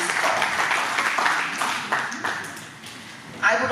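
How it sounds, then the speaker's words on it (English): Applause from an audience of students and guests at a graduate scholars' talk series, a steady wash of clapping that swells and dips over a few seconds, with a louder burst near the end. "So a big round of applause to all the students who have initiated this talk."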